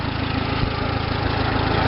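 A Case 430 tractor engine runs during a test drive, giving a steady, loud, low mechanical drone with a constant rumble throughout and no speech.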